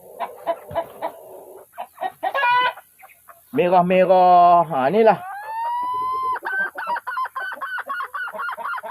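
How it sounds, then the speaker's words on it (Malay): Red junglefowl calling in a garden surrounded by oil palm trees: loud, close, harsh crowing and clucking calls with drawn-out, wavering notes, while a person speaks briefly between them. "Ha, ni ayam hutan."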